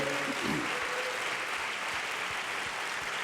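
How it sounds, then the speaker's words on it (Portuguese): A church congregation applauds the Lord, a soft, steady wash of many hands clapping at a distance, with a brief voice or tone at the start. "Vamos dar aplauso ao Senhor."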